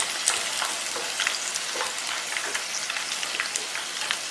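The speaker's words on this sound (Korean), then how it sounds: "자, 이렇게 해서 이제 바삭바삭하게 튀겨주고요" Pieces of fish deep-fry in hot oil for a Chinese sweet-and-sour fish dish, giving a steady, dense crackling sizzle with scattered sharper pops, close and even throughout with no talking.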